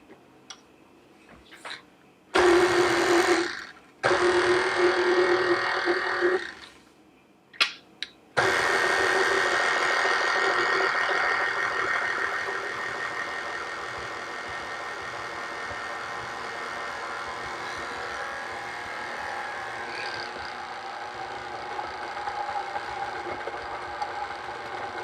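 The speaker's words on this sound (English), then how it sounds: "So I haven't used my KitchenAid in a while." KitchenAid stand mixer mixing a large amount of flour into dough, a steady motor whir that starts and stops a few times before running continuously and settling into a quieter, even hum.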